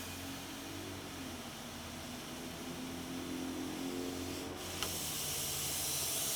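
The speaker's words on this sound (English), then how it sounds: "I'll go ahead and demonstrate the jetter here." A sewer jetter spraying water from a switcher head nozzle with side jets at right angles, heard as a steady close hiss and rush over a low engine drone that grows slightly brighter and louder toward the end.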